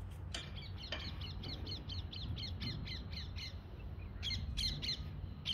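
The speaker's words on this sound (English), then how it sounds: "This is the wild parrot." Wild parrot in a morning setting giving loud, harsh repeated squawks in a steady run of short bursts, then a pause and a few more calls, over a constant low background rumble; no talking.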